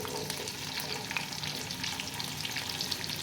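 Onion and capsicum hitting a hot pan, a dense continuous crackling sizzle with faint stirring, close and fairly loud throughout without any speech.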